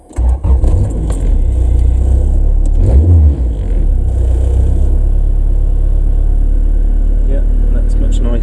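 A Honda Civic EF engine runs with a loud steady rumble that swells into a short rev near the start, then settles into an even idle with no one talking.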